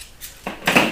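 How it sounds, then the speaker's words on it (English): Folding camping silverware from a bikepacking kit clinks close up, with a faint tap followed by two brighter metallic rattles in under a second. "it's folding silverware, so it makes it nice if you want to compact your stuff up."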